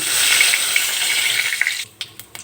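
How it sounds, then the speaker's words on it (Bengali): Whole cumin seeds fry in hot oil left after frying a hilsa fish head, giving a loud, bright sizzle that fades out, followed by a few sharp clicks of stirring or utensils. "এই তেলের মধ্যেই পরিমাণ মতো গোটা জিরে দিয়ে দিলাম"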